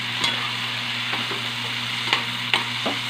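Bitter gourd (ampalaya) sizzles steadily in hot oil in a pan. A spatula stirs it now and then with light scraping clicks, and there is a low hum in the background.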